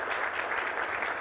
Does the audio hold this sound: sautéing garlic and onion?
no